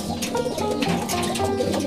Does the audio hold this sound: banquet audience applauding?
no